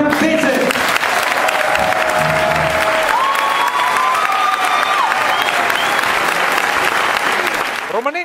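A packed municipal theatre's audience applauds and cheers loudly and steadily at a town celebration for a local champion, with a voice speaking over the crowd.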